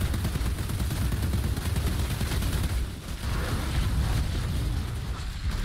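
A thermal bomb goes off in the shooter game Outriders, part of a dense, loud roar of blasts and gunfire that rumbles continuously, dipping briefly before swelling again.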